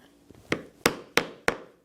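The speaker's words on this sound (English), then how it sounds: "take a 1/8 inch drive punch and punch each end" Four sharp, close strikes of a hammer on a 1/8 inch drive punch go through leather on a log carrier handle. They come at an even, spaced rhythm, each a crisp thud with a short ring, and a softer tap comes first.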